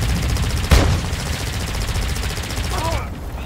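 A single sharp gunshot cracks out early in a Call of Duty DMZ match, a long-distance shot at a bot, over steady game ambience, followed by a faint rising tone near the end.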